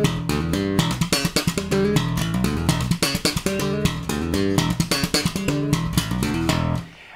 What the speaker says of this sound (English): we might go from slapping and popping to strumming and back